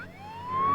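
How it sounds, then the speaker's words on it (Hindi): An ambulance siren wails, its rising tone growing slightly louder over less than a second amid low traffic rumble. "एम्बुलेंस में सायरन होती है, सायरन के बजने से रास्ता मिलता है।"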